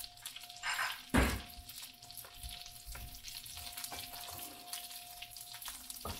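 Shallots with the root end left on and a fresh bay leaf drop into a hot pan, a loud burst of sizzling that settles into a soft, steady crackle with faint clinks around it.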